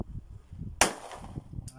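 A single sharp, loud gunshot rings out close by during shooting practice, following a moment of low handling rumble and then a brief echoing tail.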